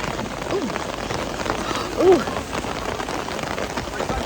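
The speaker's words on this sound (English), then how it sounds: "there is a ginormous downpour now" Heavy rain pours down steadily in a dense, hissing wash over an outdoor medieval festival in Tewkesbury, with a brief louder swell midway and no talking.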